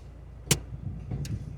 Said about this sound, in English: get a handbrake off, find a biting point, a little bit of movement, full lock to the right.